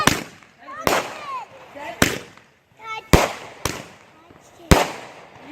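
Consumer 4th of July fireworks from a 63-shot cake: five or six sharp booming bursts roughly a second apart, with crackling and whistling tails between shots, loud and nearby, while people exclaim in the background.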